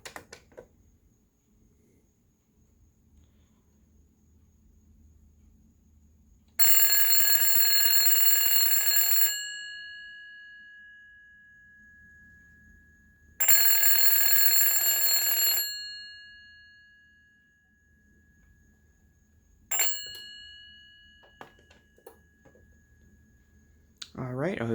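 A telephone bell rings in three bursts: two long rings of a few seconds each with a pause between, then a short clipped ring, each loud and near with a ringing decay, over quiet room background.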